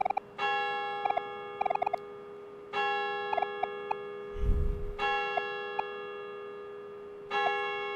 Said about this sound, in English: Bell sound effect could chill out a little bit.